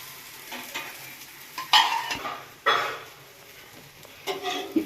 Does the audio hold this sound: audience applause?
no